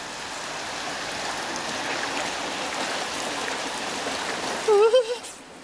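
Floodwater from Cyclone Yaas pours into houses as a steady, rushing wash of flowing water, close and continuous, with a brief voice breaking in near the end.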